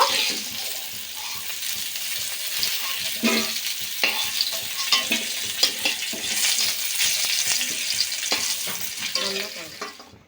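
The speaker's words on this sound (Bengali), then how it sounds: "একটু ধৈর্য ধরে উচ্ছেটা ভালো করে ভেজে নিতে হবে" Sliced bitter gourd fries in hot oil in a pan with a steady, close sizzle, while a utensil stirs and scrapes through it at intervals.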